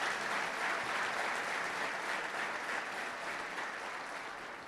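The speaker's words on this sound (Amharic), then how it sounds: "ቴንኪዩ ብላችሁ አጨብጭቡልኝ።" A church congregation at New Creation Church claps without pause in dense, even applause that fills the room throughout and fades only slightly toward the end.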